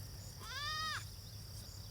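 A single goat lets out one clear, wavering bleat at mid distance, over a steady low background hum with no talking.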